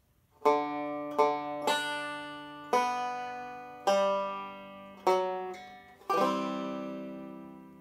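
A banjo plays a short melodic phrase of Happy Birthday in G, about seven plucked notes, each ringing out and decaying, ending on a sustained chord.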